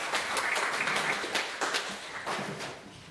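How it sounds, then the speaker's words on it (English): An audience at a tech talk panel event applauds a panel member, a steady wash of many hands clapping at moderate volume that fades slightly toward the end. "Okay, another round of applause for them."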